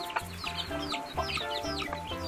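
A farm hen clucks repeatedly in short, steady bursts while showing her young chicks how to pick up food, with thin high peeps mixed in above her calls.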